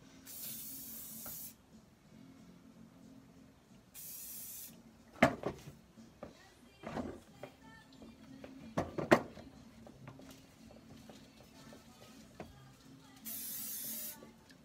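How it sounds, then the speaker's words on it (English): Hairspray hisses from an aerosol can onto hair in three short, soft bursts, spread out with quiet rustling and handling sounds in between. "we're just gonna follow her up with some hairspray"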